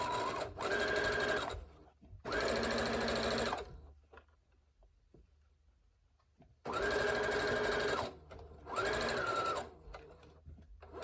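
A sewing machine runs in four short bursts as it stitches a 1/4 inch seam on a fabric face mask, with quiet pauses between pairs of bursts and no talking.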